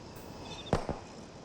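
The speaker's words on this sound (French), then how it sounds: "c'est le moteur qui pète" Two sharp pops close together from a car engine backfiring in a TV drama scene, distinct and fairly loud against a quiet night background with no talking.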